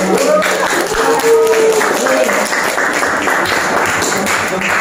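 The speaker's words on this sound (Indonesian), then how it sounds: "Oke, tepuk tangan." A group applauds in a teacher coaching session, with loud, dense clapping over a few seconds and voices talking over it.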